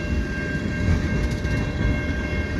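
A long CN freight train rolls past a street crossing in snow, its steady low rumble and wheel noise filling the scene, loud and continuous throughout with no voices.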